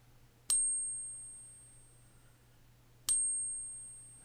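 A fake silver coin is pinged twice on a Pocket Pinger coin tester, each strike giving a sharp, close metallic ping with a thin high ring that decays slowly across a quiet room.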